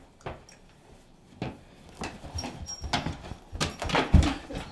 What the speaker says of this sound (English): Can't believe I'm playing with a dog, man.